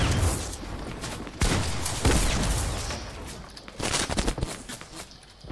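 Rapid bursts of gunfire with booms in a video game arena shooter, dense and loud throughout, with sharp volleys and a faint voice in the background.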